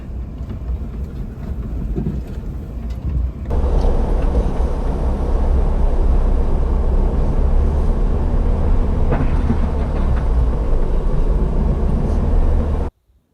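A Mitsubishi Pajero Mini crawls in low first gear up a rough volcanic track, its engine and drivetrain making a loud, close, continuous low roar with rattling that jumps louder after a few seconds, then stops abruptly.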